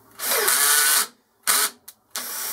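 A handheld power drill taps a 6mm hole while a turret is added to a lathe carriage stop. One long whirring run is followed by two short bursts of the motor, close and loud, with no talking.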